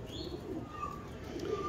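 Old-bloodline pigeons from a fancier's loft give soft, low coos that come and go under a steady background hiss.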